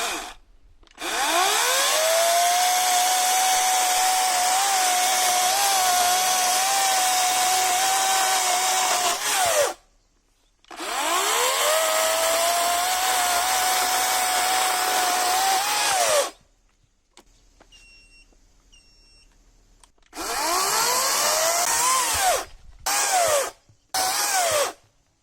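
A Parkside PKSA 40-Li A1 40V brushless cordless chainsaw cuts wood to break in its chain. It makes about four loud whining bursts separated by quiet pauses, and its pitch sags as each cut bites.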